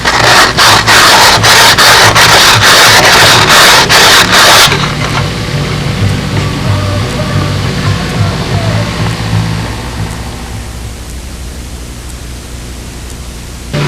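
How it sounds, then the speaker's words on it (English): Sandpaper taped around an old bottle rubs along the edge of a custom fiberglass cowling for a Spitfire build, giving a loud, steady, close-up scraping hiss that eases off partway through and then continues more softly. "some sandpaper on it, get a nice final edge on this"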